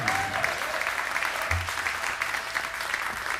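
Audience applause for the band at a church service: steady, dense clapping from a crowd, fairly loud and continuous for the whole stretch, with no talking over it.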